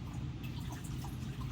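Water trickling and dripping into a small pail on a bathroom counter during sink cleaning, a soft, steady patter of small liquid sounds close by, with no talking.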